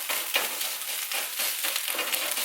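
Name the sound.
sausage frying for gravy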